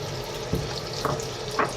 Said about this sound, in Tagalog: habang iniintay po natin yung tofu, habang pinapry ko